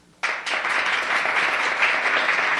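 Audience applause at a live concert performance before about 800 people, starting abruptly and continuing steady and full as a broad wash of clapping.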